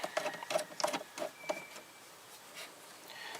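A Phillips screwdriver works a hose clamp on a vehicle's coolant reservoir, giving a quick series of close, light clicking and scraping turns that fade into quiet handling near the end.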